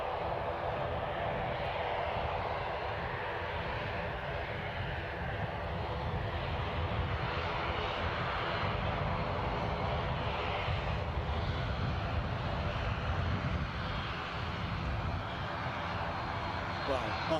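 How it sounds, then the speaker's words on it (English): An ATR 42 turboprop at Edinburgh Airport produces a faint, steady engine drone with a rhythmic propeller hum, heard at a distance under occasional talk. "Oh, that's something else going, ATR of some flavour."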